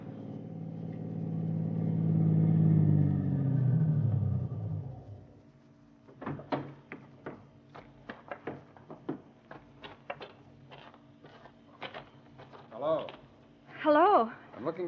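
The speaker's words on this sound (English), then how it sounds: "That car down there at the foot of the hill just turned in your driveway." A car rolls up and turns into a house driveway at the foot of a hill, its engine swelling then fading over several seconds, followed by a run of sharp clicks and knocks with brief voices.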